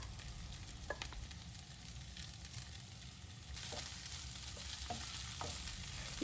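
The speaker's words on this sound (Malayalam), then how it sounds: "ഈ ക്യാപ്സിക്കൊക്കെ വളരെ ചെറുതായിട്ടൊന്ന് മൂപ്പിച്ചെടുത്താൽ മതി" Capsicum stir-fried in a pan for a dragon chicken dish gives a continuous close sizzle, with brief scraping and clicking from stirring and no talking.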